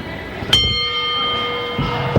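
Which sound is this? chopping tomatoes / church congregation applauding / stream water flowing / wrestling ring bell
wrestling ring bell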